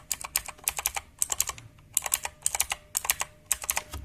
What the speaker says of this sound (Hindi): ये होती है स्पेस बार की आवाज़.